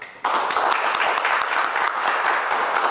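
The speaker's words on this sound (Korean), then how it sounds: "인사할 때 박수로 맞이해 주시면 좋겠습니다" Church congregation clapping to greet newly baptized members at a Christmas service, a sudden start followed by steady, dense applause from many hands that stays loud and even for a few seconds.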